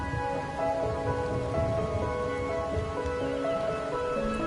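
Steady rain falls at night in the video game Wuthering Waves, a continuous hiss of drops on surfaces beneath soft sustained musical tones, with no voices.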